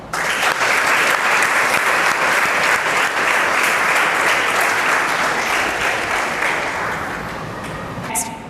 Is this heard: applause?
yes